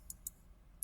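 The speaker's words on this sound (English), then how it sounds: "I'll just double click that." A computer mouse clicked while placing events in SRPG Studio: a few tiny, sharp clicks, two close together and one a moment later, faint and isolated against a quiet background.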